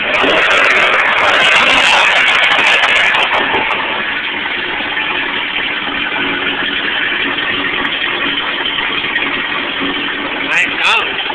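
A boat outboard engine idles while warming up, a steady loud close drone running unbroken throughout, with talk faintly present beneath it.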